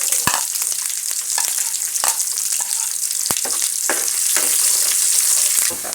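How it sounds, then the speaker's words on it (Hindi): Onions fry in ghee with ginger garlic paste, giving a continuous close sizzle broken by frequent clinks and scrapes of a spoon stirring the pan. "अब हम इसमें प्याज शामिल कर देंगे।"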